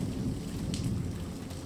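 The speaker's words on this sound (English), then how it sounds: "Thunder rolls in the distance." Rain falls steadily on a rainy night while thunder rumbles far off, with a soft, continuous hiss and a low distant roll beneath it.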